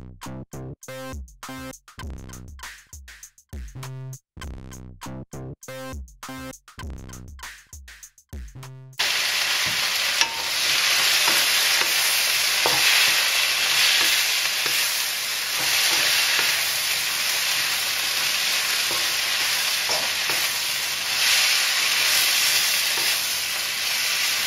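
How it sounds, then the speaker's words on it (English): Mushrooms go into a pan of chipotle chili and fry with a steady loud sizzle and hiss, preceded by a stretch of rhythmic stirring and scraping before the frying takes over, close up with no talking. "chili is cooking there. So I'm going to start adding the mushrooms now."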